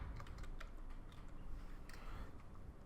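Quiet computer keyboard typing while adjusting Google Chrome settings: scattered soft key clicks in short irregular bursts over a low background hum.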